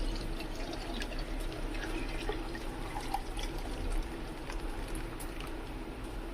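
Water from curdled milk drains through a strainer as a steady, soft trickling stream, close and continuous, with faint drips and a low background hum.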